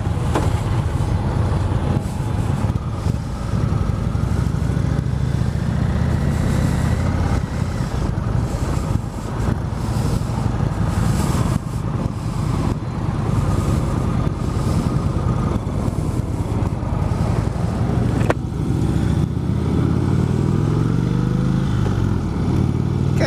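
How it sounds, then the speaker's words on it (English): A 2016 Indian Vintage motorcycle engine runs throughout, a loud close rumbling idle with a throaty low-end throb and slight revving swells, steady and without talk. "This is a 2016 Indian Vintage."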